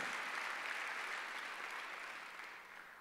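A church congregation applauding during a Sunday worship service, a dense burst of clapping from many hands that holds steady, then fades slightly toward the end.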